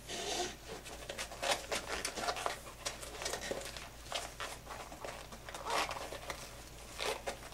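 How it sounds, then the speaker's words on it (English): Foam insert being pushed and worked into an HPI Baja RC tire: close, irregular rubbing, squeaking and soft scuffing strokes in quick bursts of handling. "let's go ahead and insert the foam into the tire"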